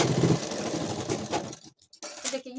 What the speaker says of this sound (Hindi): टाक 5 पे करने के बाद हम नीचे सीधी सिलाई एक लाइन पे चला देंगे।